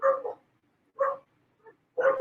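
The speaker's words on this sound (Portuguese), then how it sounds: "Se o cachorro estiver latindo muito alto" Street dogs at a gate on a corner bark in a short series of four close, moderately loud barks with brief pauses between them, one softer yip in the middle.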